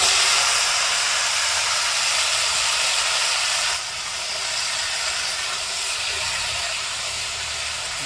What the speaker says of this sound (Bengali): এবার সবজিগুলো ভেজে নেবো।